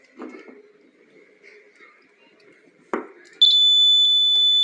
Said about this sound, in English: So I connected the battery and this alarm is ringing.